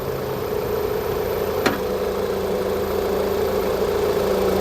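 A Toyota Highlander engine idles with a steady mid-low hum as its voltage sags, one brief sharp tick breaking the drone partway through, no talking.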